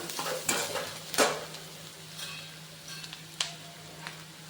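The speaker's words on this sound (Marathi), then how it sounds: "त्याच्यामध्ये आपण बारीक करून घेतलेली मिरची घालून घेऊया मिरची चांगल्या प्रकारे परतून घेऊ" Chopped green chilli sautéing with browned onion in a pan, soft sizzle under a few sharp spatula scrapes and taps.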